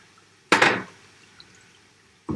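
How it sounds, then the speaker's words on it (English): Water splashes as it is poured into a pan of simmering meatball sauce, one short loud burst that quickly fades, with a second brief splash at the very end. "Add some water in there."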